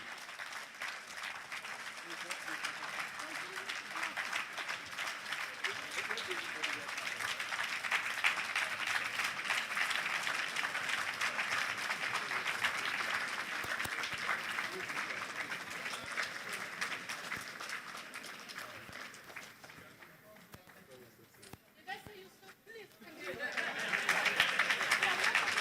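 A conference audience claps steadily and densely for a long stretch, the applause dipping briefly near the end before swelling loud again.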